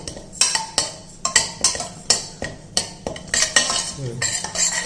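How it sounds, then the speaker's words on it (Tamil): Samba wheat rava dry-roasts in a kadai while a metal spoon stirs it, giving a steady run of sharp clinks and scrapes against the pan, close and clear, with no talking. "இதை கடாயில் போட்டுக்குருவோம். இதை நல்லா கொஞ்சம் வறுத்துக்குருவோம்."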